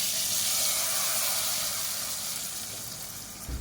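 A fried garlic-and-onion tempering is poured over green gram lentil sambar, setting off a loud, steady sizzle and hiss that slowly fades toward the end, heard up close with no talk.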